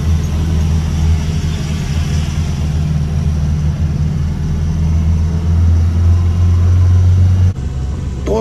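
A car drives along a smooth mountain road near Leh and Shinkhula Top, with snow lying beside it; a steady low engine and road rumble run throughout, close and continuous, cut by a brief shift near the end.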